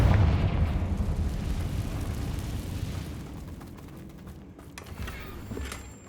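Confringo spell explosion in Hogwarts Legacy bursts loud at the start, then rumbles and crackles as it slowly fades, followed by a few smaller pops near the end.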